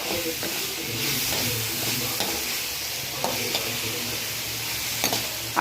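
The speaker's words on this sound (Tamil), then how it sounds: "வெங்காயம் தக்காளி நல்லா வதக்கின்னு இருக்குது." Onions and tomatoes sautéing in a pan for a simple broad bean stir-fry, a continuous sizzle and hiss with intermittent stirring scrapes and taps, close and steady throughout.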